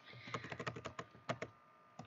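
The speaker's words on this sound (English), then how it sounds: "sorry for my bad typing" Quick bursts of keystrokes rattle on a computer keyboard, a fast run of taps followed by a short pause and a few more, close and fairly quiet, while a Discord bot command is entered.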